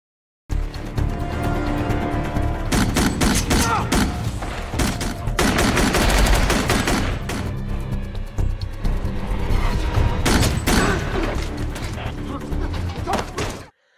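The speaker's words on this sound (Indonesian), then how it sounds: "masih melakukan baku tembak di dalam gedung PLTU itu" Gunfire crackles through a film shootout inside a power plant building, dense bursts of shots and impacts rolling almost continuously at close range, loud throughout.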